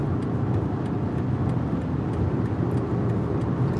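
A BMW 7 Series cruising at about 180 km/h through a bend on the German Autobahn, with a steady, dense roar of engine, tyre and wind noise held at constant loudness throughout.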